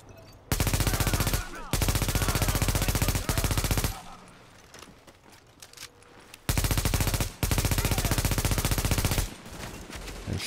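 Sustained automatic gunfire in The Division, two long loud bursts of rapid machine-gun shots separated by a quieter stretch of scattered distant shots.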